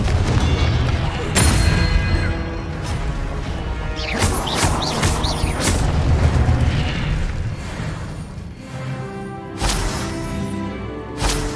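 Confringo blasting-spell explosions in the video game Hogwarts Legacy: repeated loud booms and crashing impacts scattered through a busy magical fight, with sharp bursts standing out among the rumble.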